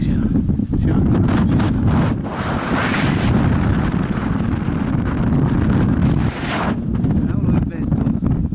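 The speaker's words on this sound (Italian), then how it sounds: "cavolo che vento" Strong wind blasts across a mountain summit at about 2,090 m on Cima di Vall'Organo, roaring loudly against the microphone in heavy continuous gusts, with a brief lull near the end.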